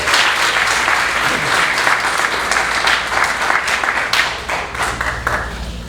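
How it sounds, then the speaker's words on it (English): An audience bursts into loud, sustained applause, dense overlapping clapping from a crowd that holds steady and then tapers slightly near the end. "Let's give him a big round of applause."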